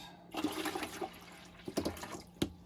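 Water pours into an Insignia NS-IMP26SLO countertop ice maker, a steady splashing fill that runs for a couple of seconds with a few louder gurgles and drips near the end, fairly quiet and close.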